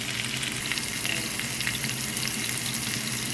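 Steak searing in a hot pan, with a loud, steady, close sizzle and spattering crackle running throughout and no voices.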